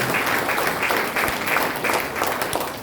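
Members of a church congregation at a worship service in Anjir Kalampan, Kapuas, applaud together, a steady, full wash of many hands clapping at moderate volume with a few louder claps standing out.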